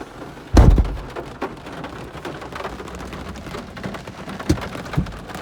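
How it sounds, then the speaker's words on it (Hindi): Steady heavy rain pours down with a constant hiss, broken by a loud thump near the start and a few sharp knocks later. "तो बारिश बहुत है।"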